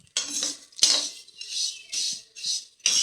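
A metal spoon taps and scrapes against a bowl in a series of short, close clinks while sugar is added to a snack batter, with brief pauses between strokes and no talking.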